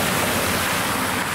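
A Range Rover drives through a deep water ford, making a loud, continuous rushing wash of churned water and spray close by, with no talk.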